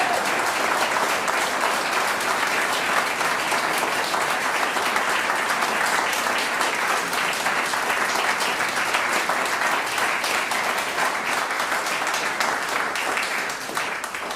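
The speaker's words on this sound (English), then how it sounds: "Let's give them another round of applause." A concert audience in a church claps after a performance by an actor and a pianist, a long, steady burst of applause from the whole room with no talk over it.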